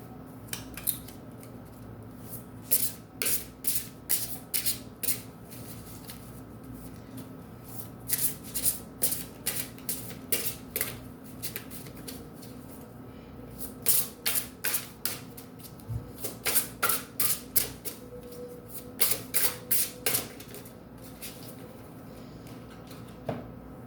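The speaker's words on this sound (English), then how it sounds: "I'm going to pull a card from the Spirit of Animals Oracle" An oracle card deck being shuffled, with repeated crisp riffling and flicking bursts in uneven clusters, close and fairly quiet, with no talking.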